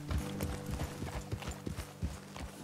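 Horse hooves clip-clop steadily on a road in Red Dead Redemption 2, a quiet, even rhythm of close footfalls over a low droning hum, with no talking.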